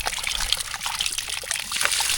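Cold water trickles steadily from a pipe set into a hillside on a hiking trail near Abbottabad, a close, continuous splashing hiss with no voices.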